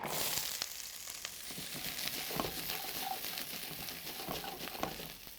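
Constant crackling sizzle of vegetables, including mushrooms, frying in a pan, fairly quiet, with scattered pops and light scraping throughout.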